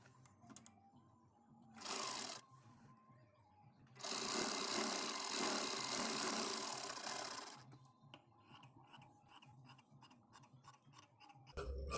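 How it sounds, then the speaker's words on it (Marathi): Close sewing machine stitching a puff sleeve in fabric, with a short burst followed by a longer steady run of rapid needle chatter, then quieter ticking and handling sounds. "आपण आता स्टिच करू।"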